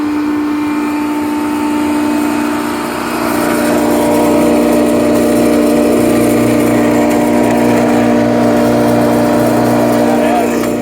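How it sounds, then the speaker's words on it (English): A McCormick No. 4-E hammer mill, rebuilt like new, runs with a steady droning hum and a strong whine while its grind-and-blow cyclone pushes air, continuous and loud throughout. "I can feel the air coming out of the cyclone here on the grind and blow."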